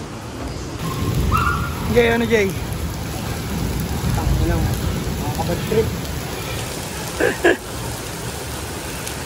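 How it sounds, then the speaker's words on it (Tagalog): Steady, dense rain hisses throughout, with a few muffled rumbles, while people talk loudly over the downpour. "ang lakas ng ulan"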